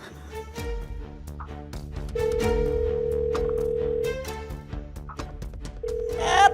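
A telephone rings out repeatedly with no one answering, steady electronic tones over a background score.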